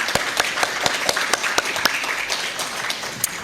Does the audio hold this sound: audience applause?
yes